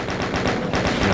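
Chain gun in Doom II (Eviternity mod) fires a rapid, steady stream of loud, evenly spaced shots in one unbroken burst.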